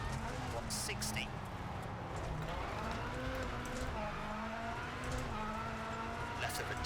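Rally car engine in the EA WRC racing game, a steady droning motor with shifting pitch running throughout, with a co-driver's pace notes spoken over it.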